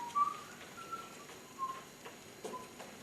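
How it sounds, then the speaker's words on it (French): A person whistles a few short, thin notes at moderate distance, with small ticking sounds in a quiet room between them. "Il siffle, c'est un tic."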